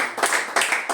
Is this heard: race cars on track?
no